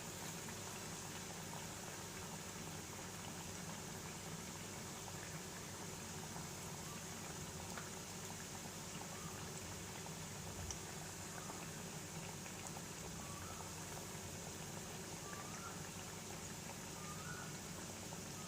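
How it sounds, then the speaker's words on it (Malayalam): Chicken pieces for Chicken Manchurian deep-fry in hot oil, making a faint, even bubbling hiss that holds steady with no break and no voices. "ഇപ്പം ഞാൻ ചിക്കൻ പീസസ് ഓയിലിലേക്ക് ഇട്ട് കൊടുത്തിട്ടുണ്ട്. ഇത് നന്നായിട്ടൊന്ന് ഫ്രൈ ആവുന്നവരെ നമുക്കൊന്ന് വെയിറ്റ് ചെയ്യാം."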